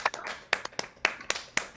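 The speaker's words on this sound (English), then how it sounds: "give some regular human applause" A handful of online meeting attendees clap sparsely over a microphone, with about six scattered, close, sharp claps at irregular intervals.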